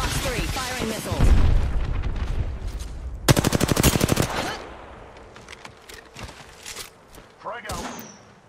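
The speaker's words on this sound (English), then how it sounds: "Fox 3, firing missiles." Valkyrie firing missiles in the Apex Legends video game: a burst of rapid, loud, closely spaced launch thumps and blasts, followed by scattered booms and clatter from the game's battle.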